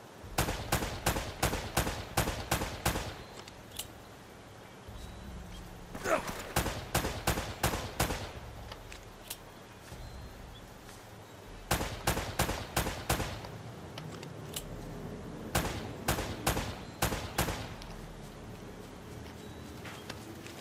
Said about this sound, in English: the way this gun shooting is